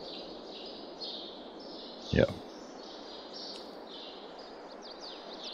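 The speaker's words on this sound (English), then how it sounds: "Did you hear the birds? Yeah, the birds in the shed." Birds chirp inside a shed on a new video game map, thin high calls repeating softly in the background while a voice speaks briefly over them.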